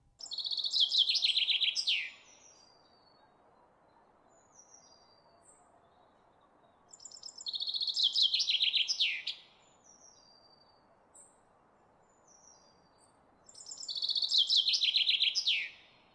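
Songbirds arriving in spring chirp and trill in three bright bursts of about two seconds each, separated by quieter pauses holding a few faint scattered calls over a soft background hush.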